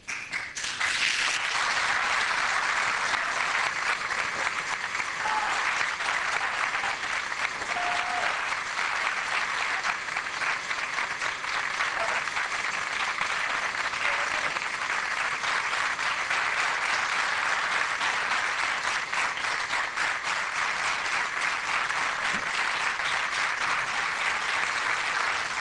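A long, loud, sustained round of applause fills a municipal council constitution ceremony in Valldoreix, dense clapping from a large audience holding steady for well over twenty seconds.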